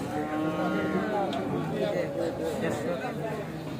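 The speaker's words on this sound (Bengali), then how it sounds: "এই সুন্দর গরু দেখতে পাচ্ছি এটা তো আপনারই" Cattle lowing at a crowded, rain-hit Aricha cattle market ahead of the Eid-ul-Adha sacrifice, steady and fairly close under continuous crowd chatter and talk.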